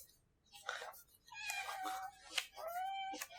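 A house cat meows several times close by, with drawn-out, rising cries in quick succession, fairly quiet overall and with no talking over it.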